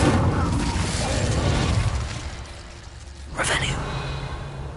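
The Incendio fire spell in Hogwarts Legacy goes off as a whooshing fiery blast with a bright burst partway through, over a steady rumbling game ambience while a voice speaks.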